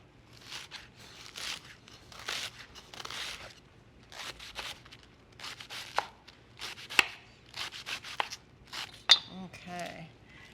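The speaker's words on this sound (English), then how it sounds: "just slice it thin" A knife slices tricolor salad vegetables thinly on a cutting board, a quick series of close, crisp chops in uneven bursts with a few sharper knocks, and no voice over it.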